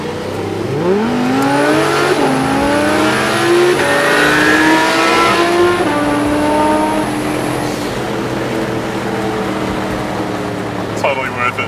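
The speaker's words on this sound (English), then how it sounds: "lining up a Audi R8 V10. They're definitely fast, but so is a Volvo" Turbo V8 Volvo and Audi R8 V10 roll racing side by side, engines revving hard through repeated rising gear sweeps, loud and close, with a high whine over the top and voices underneath.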